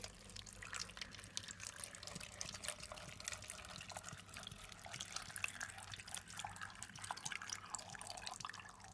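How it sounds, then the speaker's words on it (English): Water trickles and splashes steadily into a blender, a soft continuous liquid pour with faint dripping, heard alone at low volume. "so I'm just gonna pour my water in my blender."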